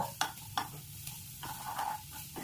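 Chopped onions, added with garlic cloves to butter for a chicken stew, sizzle steadily while a spoon scrapes and taps the pan in several sharp strokes, close and moderately loud.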